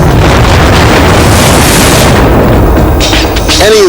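A loud, sustained explosion roars and rumbles with heavy low-end, slowly fading with crackling debris.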